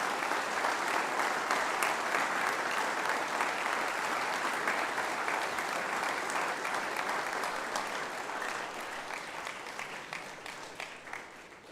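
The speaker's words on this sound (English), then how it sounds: "let's give Professor Scott another round of applause" A school assembly audience applauds Professor Scott with sustained, dense clapping from a large crowd, steady and full for several seconds before gradually thinning and fading out.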